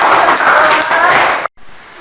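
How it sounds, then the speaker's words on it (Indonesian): Students in a classroom clap for a classmate named Deni, a short loud burst of group clapping that stops abruptly after about a second and a half, leaving quiet room tone. "Yuk, tepuk tangan untuk Deni"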